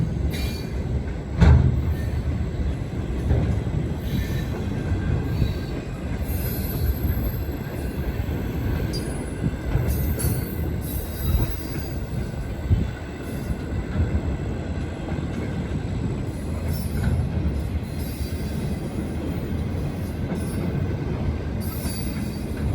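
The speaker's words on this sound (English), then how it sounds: "This is one of the best Cincinnati Eastern Railroad trains I've seen in months" A Cincinnati Eastern Railroad freight train, including flat cars that were once auto racks, grinds past at steady volume, a continuous rail rumble with intermittent squealing wheels and occasional clanks.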